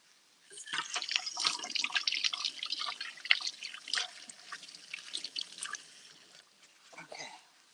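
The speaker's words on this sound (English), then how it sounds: "Let me wash my hands a little bit." Water from a kitchen tap splashes over hands at a sink, an irregular close patter of drips and splashes for several seconds before tapering off.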